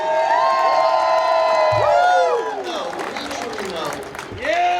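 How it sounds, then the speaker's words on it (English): A crowd at a conservative rally facing a counter-protest cheers, whoops and claps loudly and close by, with shouting voices rising over the din before it thins out. "everybody meet Julie Barrett and give her a round of applause right now"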